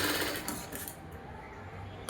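A sewing machine runs a short burst of stitches through a blouse lining, a quiet rapid mechanical whir with faint ticking, close by and alone.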